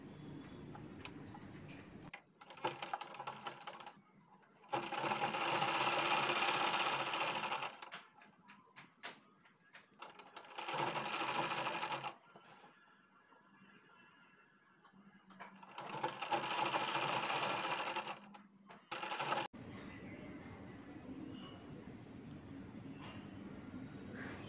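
Sewing machine running in three long loud bursts, stitching the neck strip (gala patti) of a designer suit, with quiet pauses and handling sounds between runs.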